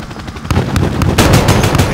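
Helicopter gun run firing during a Call of Duty Modern Warfare mission, heard as loud, dense automatic gunfire that thickens into a heavier, continuous barrage partway through.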